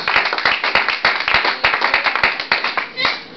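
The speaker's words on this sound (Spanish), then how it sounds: "Den un aplauso al Rey de Gloria." A church congregation at an apostolic service claps in quick rhythmic unison. The clapping is loud and close, with voices mixed in.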